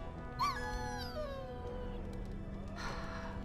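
A dog whimpers in the video game Dragon Age: Origins, a soft high whine sliding downward, followed by a faint breathy sound, quiet over a low background hum.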